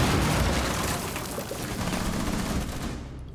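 A breaching charge detonates in the tactical shooter Rainbow Six Siege, making a loud, dense blast that rumbles and fades over a few seconds, with a burst of gunfire-like crackle inside it.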